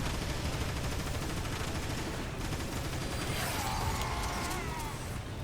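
Rapid gunfire crackles through a dense, continuous din of weapons and mechanical noise in Transformers: War for Cybertron, loud and unbroken, with brief brighter metallic bursts toward the end.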